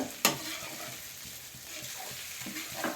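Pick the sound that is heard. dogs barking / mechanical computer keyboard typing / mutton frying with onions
mutton frying with onions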